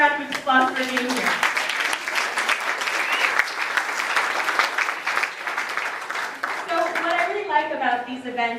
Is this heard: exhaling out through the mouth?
no